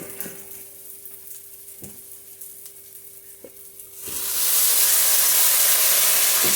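Spice masala fries in a pan for a pointed gourd vegetarian curry, at first a quiet sizzle with a few soft taps, then swelling into a loud, dense hiss of steam and spattering oil, with no voices.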